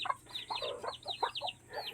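Several chickens and chicks cluck and chatter close by in a steady, busy run of short calls, with higher chirps mixed in and no talking.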